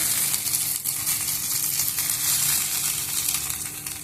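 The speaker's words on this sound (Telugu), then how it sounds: "మనకి రొయ్యలు చేపలు మాత్రం ఇట్లా పెనం పైన కాల్చుకుంటే బాగుంటుంది." Fish fries on an aluminium tawa pan, producing a steady, fairly loud crackling sizzle that continues without pause.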